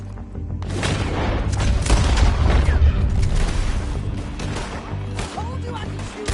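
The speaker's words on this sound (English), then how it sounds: "Told you I could shoot a gun, didn't I?" Gunfire in the video game Red Dead Redemption 2, a dense fusillade of booming shots and blasts rolling continuously through the whole stretch, loud and close, with voices talking over the shooting.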